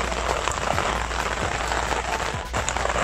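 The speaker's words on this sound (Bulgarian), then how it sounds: "Почвам вали жестоко." Heavy rain falls steadily on surfaces close by, a dense, even patter that fills the whole stretch with no talking.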